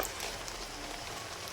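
Steady rain dripping and pattering from a tree canopy outdoors, a constant close hiss of drops on leaves and surfaces with no voices, holding evenly from start to finish.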